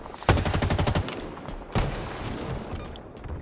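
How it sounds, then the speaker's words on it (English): Machine gun fire in a Halo multiplayer match: a loud rapid burst of evenly spaced shots, then a second shorter burst, with quieter combat sounds trailing after. "Machine guns suit you,"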